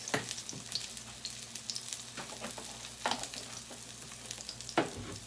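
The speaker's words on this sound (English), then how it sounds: "Let it cook for a few minutes there, and then we'll flip it." Salmon patties fry in oil in a pan with a steady close sizzle, broken by occasional louder crackles and spatters.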